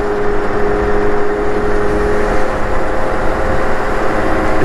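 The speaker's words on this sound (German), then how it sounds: "Ich fahre mit einem Kart auf der Schnellstraße." Small go-kart engine droning steadily while driving along an expressway, loud and close with constant wind and road roar and no breaks.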